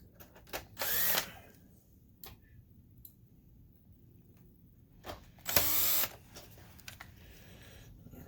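A power driver runs screws into a BenQ MH740 DLP projector in two short whirring bursts several seconds apart, with small ticks and clicks of handling between them, close and fairly quiet.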